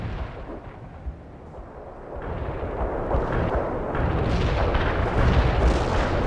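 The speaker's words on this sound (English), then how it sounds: "Artillery barrage." An artillery barrage in the World in Conflict real-time strategy video game. Heavy explosions rumble in one after another and build into a deep, continuous roar that grows louder toward the end.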